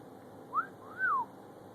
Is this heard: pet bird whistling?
yes